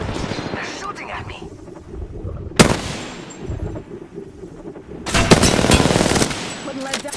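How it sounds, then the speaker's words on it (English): Gunfire in the battle royale video game Apex Legends: a sharp single crack, then a sustained burst of rapid automatic fire, loud and close, with a voice speaking over the rumbling game sounds. "They're shooting at me!"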